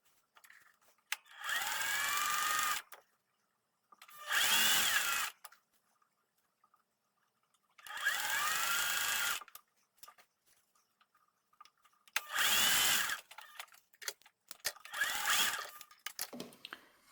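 Sewing machine stitching rows of a quilt block together in several separate runs, each a steady, close whirring burst lasting one to two seconds, with quiet pauses and small handling clicks between them.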